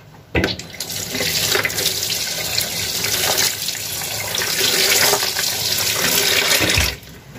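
A kitchen tap runs steadily into a sink to soak fish, a loud, continuous splashing rush of water that starts abruptly, holds for about six and a half seconds, then cuts off.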